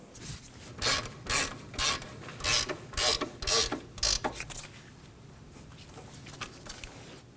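A ratchet snugs down the front caliper bracket bolts on a 2013-2015 Subaru XV Crosstrek during a wheel bearing job. About seven loud, crisp clicking bursts come in a steady rhythm, then it fades to quieter, softer working noise.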